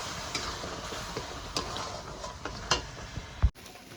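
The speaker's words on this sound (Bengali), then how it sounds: "পেস্টটা দিয়ে এবার আমি ভালো করে মশলার সঙ্গে কষাতে থাকবো।" Spinach and spice paste stir-fried in a pan for palak rice, giving a soft, steady sizzle with faint scraping strokes and a few light clicks of a spoon against the pan, ending in a short knock.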